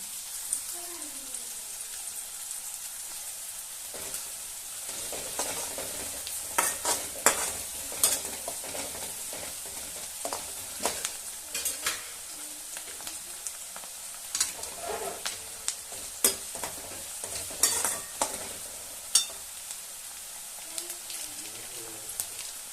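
Onions roasting in a pan for a spicy village-style chicken curry, a soft continuous sizzle broken by repeated scraping stirs of a spoon at irregular intervals, fairly quiet and close, with faint talk at times.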